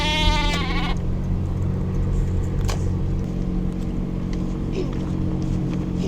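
A goat bleats once, briefly and loudly, at the start, over a steady engine-like drone that continues to the end.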